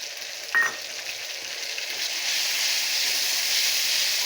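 Ginger and ground tomato paste fry in a pan, giving a steady bright sizzle that holds throughout, with a brief clink near the start and the hiss growing a little fuller later.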